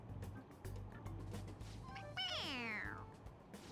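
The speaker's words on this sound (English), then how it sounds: "It meows when you press on its head." A stuffed cat toy in the video game Persona 5 lets out a single rising-and-falling electronic meow when pressed, heard faintly over quiet game ambience.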